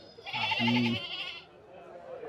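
A single drawn-out goat bleat rises close by, then fades into a quiet background.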